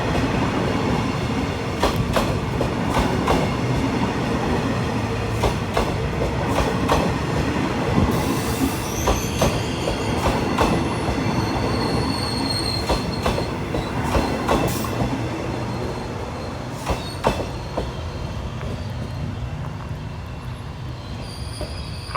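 A train hauled by a Hitachi 4515 diesel locomotive, running as the Thaksinarak special express at a Thai station, rumbles steadily close by with repeated wheel clacks and metallic squeals over a continuous engine drone.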